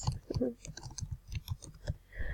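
Laptop keys are pressed hard in quick, uneven clacks close by, with heavier thumps where a faulty spacebar has to be forced down.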